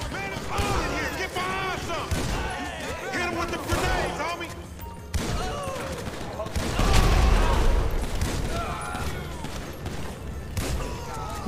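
Gunfire in GTA 5 breaks out in loud, repeated blasts and crashes amid chaotic action, heavy booms clustering near the end, with a voice talking over much of it.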